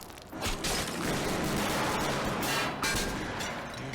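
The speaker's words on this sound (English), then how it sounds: "A lot of practical explosions again" Rumbling explosions and bursts of gunfire in Escape From Tarkov, dense and continuous, with sharp blasts cutting through a loud booming wash.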